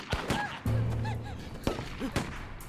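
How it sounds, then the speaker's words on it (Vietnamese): Several sharp gunshots crack out at uneven intervals, each a sudden loud bang with a brief tail. Faint tonal sounds drift between them. "kẻ nào bắn súng?"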